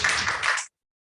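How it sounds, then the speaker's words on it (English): A burst of audience applause for a conference panel, dense broadband clapping lasting well under a second before cutting off abruptly into silence. "Let's give them a round of applause."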